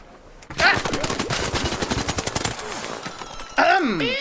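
Loud, sustained automatic gunfire in a video game rattles in rapid bursts while a voice speaks over parts of it.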